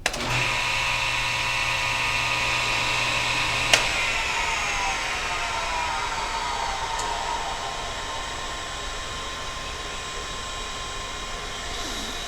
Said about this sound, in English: To make the blade run, you pull this paddle out.